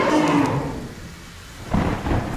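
Rain and thunder from a nighttime rainstorm in the video game Terraria rumble loudly, a heavy wash fading then swelling again with a new roll near the end.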